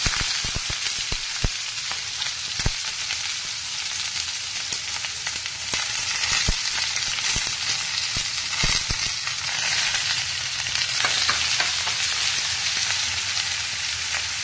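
Onion frying in hot oil after mustard seeds and green chillies go in, a steady close sizzle with scattered sharp crackles and pops throughout, no talking.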